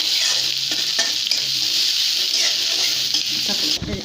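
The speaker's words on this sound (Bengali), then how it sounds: "এটা ভাজবো হালকা বাদামি করে" Garlic cloves frying in a pan until light brown, ahead of a catla fish curry; a bright, constant sizzle with a few stirring scrapes, close and loud, ending with a brief clatter.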